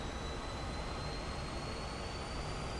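Steady, loud roar of a MiG-15 jet engine in the DCS flight simulator as it throttles up, a continuous broadband rush with a thin high whine and no voices.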